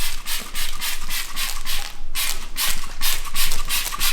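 Super Clean foaming degreaser is sprayed onto a dirty car engine bay in a garage in repeated rapid hissing bursts with short gaps and the rattling clicks of a trigger sprayer, loud and close with no voices.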